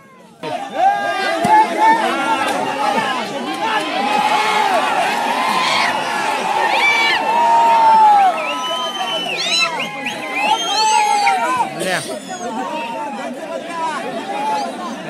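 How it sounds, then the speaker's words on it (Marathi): A cricket crowd at a local premier league semi-final claps, whistles and cheers, with loud chatter, shouts and whoops rising and falling close around, and voices speaking throughout. "केवळ टाळ्या आणि शिट्ट्याच वाजवायच्या"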